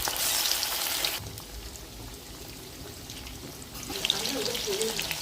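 Chicken pakora frying in hot oil makes a soft, continuous bubbling sizzle, faint and steady, with a louder burst at the start and again near the end.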